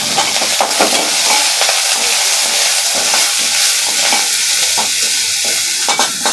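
Chopped onions sizzle loudly in a hot pan with curry leaves while a spoon stirs and scrapes through them in quick repeated strokes; the frying hiss stays steady and close with no talking.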